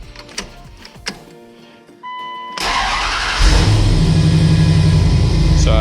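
A Dodge Dakota R/T engine cranks briefly after a compression test with its plugs reconnected, then fires and settles into a loud, steady idle close by, following a few clicks and a tone.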